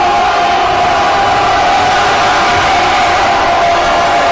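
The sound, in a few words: basketball crowd cheering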